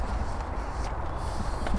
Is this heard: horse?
yes